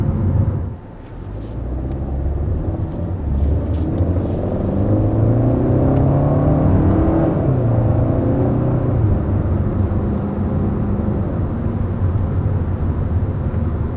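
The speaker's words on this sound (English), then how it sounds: "what you're hearing as far as the shifting, that's going to be an 8-speed automatic transmission" A 2021 Kia K5 with an 8-speed automatic accelerates, its engine a steady, close low rumble that rises in pitch through gear shifts, heard from inside the car.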